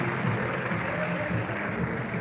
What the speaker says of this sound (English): Can we give a round of applause to NLNG for great things being done?